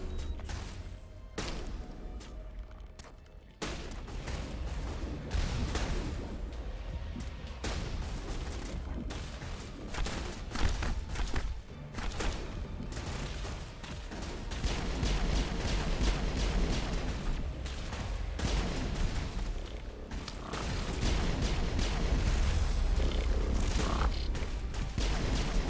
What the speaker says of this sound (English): I'm taking damage from the explosions behind the cover there